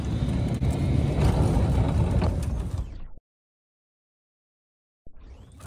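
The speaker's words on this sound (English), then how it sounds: "Here we go, flat ground acceleration test again." Lithium-battery 36V golf cart accelerating on flat ground: a loud mechanical whir and rattle for about three seconds, then sudden silence, then a brief return of motor sound at the end; no talk.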